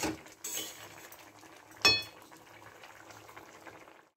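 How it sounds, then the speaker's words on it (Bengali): A pot of mixed-vegetable moong dal simmers with a soft, steady bubbling hiss up close. A sharp metallic clink of utensil on pot cuts in partway through, then the low boil carries on alone until it fades. "একটু 5 মিনিট ফুটে যাক ভালো করে"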